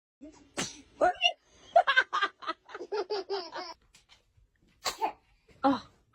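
A newborn baby sneezes, with a sharp sneeze early on and more short bursts later, while an adult voice speaks and laughs in between.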